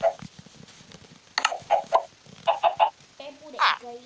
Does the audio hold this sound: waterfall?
no